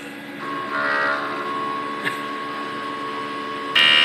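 A DTF printer runs a head clean cycle, giving a steady mechanical whir with a faint tonal hum, a small click midway and a louder mechanical shift near the end.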